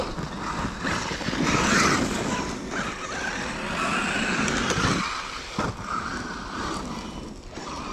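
A Corally Sketer RC car drives over rough ground, its motor whine and tyre rumble forming a continuous broadband roar that swells and eases, with a few brief bumps.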